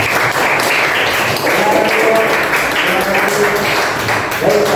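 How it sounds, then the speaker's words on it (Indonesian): A classroom applauds its class leader, Bang Mahfud, a dense, steady wash of clapping from many students that continues throughout, with some voices mixed in. "Tepuk tangan untuk Bang Mahfud"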